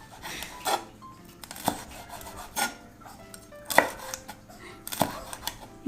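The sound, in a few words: knife cutting bell pepper into thin strips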